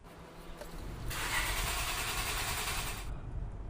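A car engine cranks and catches in snowy weather, roaring steadily for about two seconds near the listener before cutting off, with faint wind-like background before and after.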